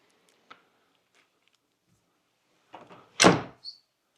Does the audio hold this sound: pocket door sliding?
yes